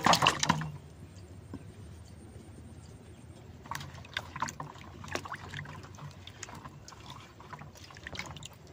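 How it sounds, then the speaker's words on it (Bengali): Raw green mangoes fresh from the tree are rinsed in water, with splashing and sloshing bursts, a loud splash at the start and intermittent handling noises, close by. "আম, দেখুন আমি ধুয়ে নেবো।"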